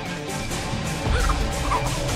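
Loud gobbling fowl squawks in the Texas Chainsaw Massacre video game, a chicken noise of rapid, throaty clucking bursts that swell midway, close and alone without speech.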